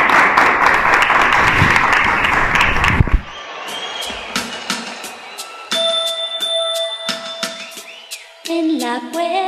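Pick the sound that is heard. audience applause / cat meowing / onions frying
audience applause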